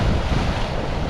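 Sea waves wash over a sandy beach by a sea wall as the tide comes in, a steady, loud roar of surf and rushing water mixed with wind buffeting the microphone.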